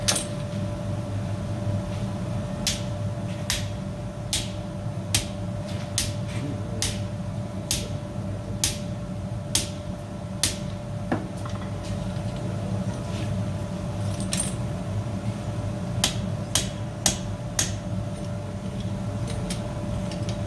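An iron chain link is closed by hand in traditional English chainmaking, with sharp, evenly spaced hammer strikes ringing over a constant low forge hum, then a short pause before another quick series of blows.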